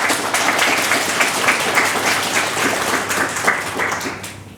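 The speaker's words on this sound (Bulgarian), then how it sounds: "Моля за вашите аплодисменти за прекрасното жури още веднъж." Sustained audience applause at the finale of a national poetry competition, a dense steady wash of many hands clapping throughout, fading slightly at the end.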